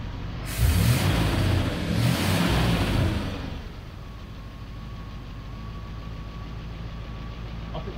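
A Triumph Stag engine with Stromberg CD 175 carburettors idles at about 780 rpm, humming low and even, louder with broadband rumble for the first few seconds, then settling into a quieter constant drone.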